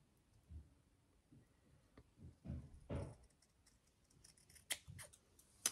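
Scissors snipping through paper, several quiet soft cuts spaced irregularly, with a few sharper clicks of the blades near the end.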